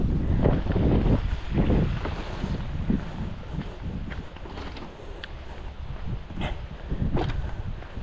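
A large water pump engine irrigating calamansi runs with a loud, rough, steady drone, pulsing and sputtering irregularly, with wind buffeting the microphone.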